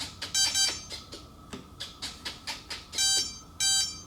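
Electronic ESC calibration beeps from an Arrows F4U-4 Corsair 1100mm RC plane, a run of short high chirps followed by two longer tonal beeps, faint and close in a quiet room with no talking.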